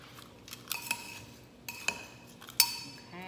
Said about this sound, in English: I'm just gonna mix it up a little bit.